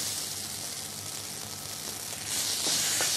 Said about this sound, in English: Now goes in some Ching secret Schezwan sauce.